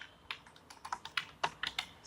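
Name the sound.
typing code on a computer keyboard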